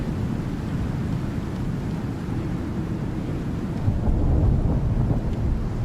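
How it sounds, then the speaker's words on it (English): A loud in-game thunderstorm in the survival game Icarus rumbles continuously, deep rolling thunder and wind roar dominating throughout and swelling louder near the end, with no talk. "This is a loud storm."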